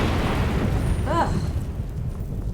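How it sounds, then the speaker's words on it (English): Fire spells strike and burn in Skyrim, a steady, loud roaring rush of flame that runs through the whole moment, with a brief tonal blip partway through. "They just kept setting me on fire."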